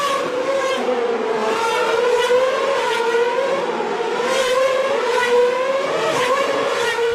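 Formula 1 cars race at the 2013 Monaco Grand Prix, their high-pitched engines screaming loudly and continuously as the bunched field passes, with pitch rising and falling through the gears and no voices over it.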